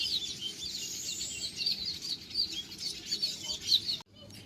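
Sparrows chirp and twitter busily in a dense, high-pitched chorus, with a brief moment of near silence at the very end.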